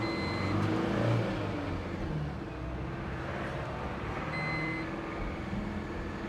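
A Tata Intra V50 mini truck's engine drones steadily while driving, with a low rumble that swells slightly at first and then settles into an even hum.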